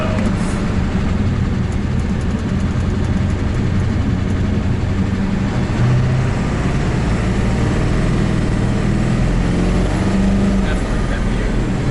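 A Ford 7.3 Powerstroke diesel truck on 24-inch wheels, freshly tuned with a boost leak fixed, pulls hard with a loud, steady low engine drone and rising tone from inside the cab, with voices talking over it.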